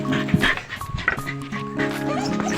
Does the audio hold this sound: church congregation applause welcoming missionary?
no